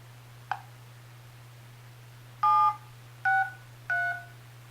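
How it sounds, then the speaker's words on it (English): Touch-tone dialing beeps on a HomTom HT10 smartphone, a faint click followed by three short, clear tones in quick succession over a steady low hum. "Now if I make a phone call, we'll dial that same number again."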